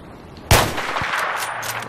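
Gunfire in the video game Battlefield 3 on Karg Island, a single sharp, loud shot at close range followed by a fading reverberant tail and faint further crackles.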